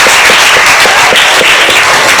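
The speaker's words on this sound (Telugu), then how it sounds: "అందరు క్లాప్స్ కొట్టండి." Children and adults at a junior Sunday school event clap together, a dense, steady round of applause with a faintly regular beat that runs the full length without any talk.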